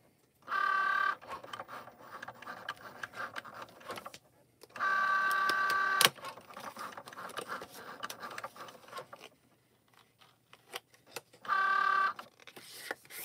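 A Cricut Joy cutting machine works on a card with a steady mechanical whir and clatter, broken by three louder tonal motor bursts and brief pauses. It sounds close and moderately quiet.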